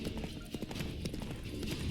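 Horse hooves gallop in The Witcher 3 video game, a fast, steady clip-clop rhythm with a brief whinny, close up over a busy game soundscape.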